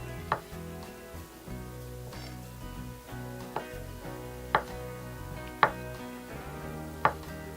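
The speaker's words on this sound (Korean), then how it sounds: "양송이 버섯을 다 썰어서 이걸 같이 넣어 줄게요" A knife slices button mushrooms on a cutting board, giving about six sharp, evenly spaced chops over a low, steady kitchen hum.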